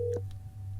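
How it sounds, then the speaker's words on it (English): A phone call dials out through a B&O Beosound A1 3rd Gen speakerphone, with a brief electronic dialing tone over a low steady hum, heard up close. "Let's see if Amaya's going to answer the phone."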